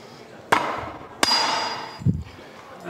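A hammer strikes a piece of iron on an anvil three times at uneven intervals, two sharp ringing blows followed by a duller, heavier one, close and alone.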